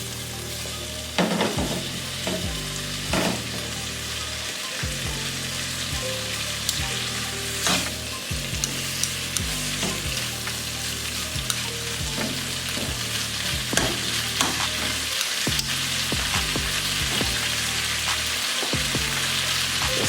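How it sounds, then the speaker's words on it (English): Chicken wings with paprika sear in butter in a pan, giving a loud, continuous close sizzle with crackling pops and occasional stirring knocks, no talking. "we're going to sear these for about 15 minutes"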